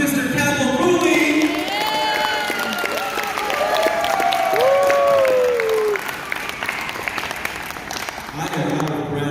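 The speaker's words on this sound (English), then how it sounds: "Can we please give a quick round of applause to Mr. Campbell Cooley?" An audience at a Power Rangers convention panel at Power Morphicon 2024 applauds steadily with some cheering and whoops, as voices rise over the clapping. The applause fades slightly toward the end.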